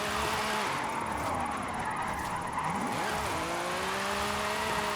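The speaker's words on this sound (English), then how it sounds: "I'm just gonna use my handbrake to extend my slide" Car engine in Forza Horizon 5 holding a sustained drone through a handbrake slide, pitch dipping and climbing as the car drifts, with faint tyre noise and no talk.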